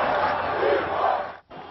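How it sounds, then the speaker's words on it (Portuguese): Flamengo supporters in a packed stadium during a 2005 Campeonato Brasileiro match against Coritiba, a loud, massed crowd chant rising and swelling before cutting off abruptly. "a torcida do Flamengo gritou um nome"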